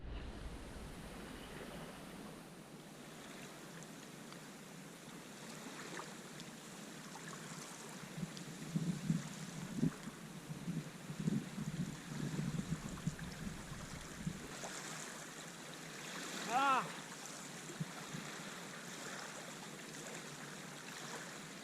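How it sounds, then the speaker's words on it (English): A boat motoring across Lake Almanor in Plumas County, California in winter, a steady broadband engine and water rush with wind, fairly faint and continuous, with brief louder splashes midway. "I'm motoring out to where there's some wind coming across the lake"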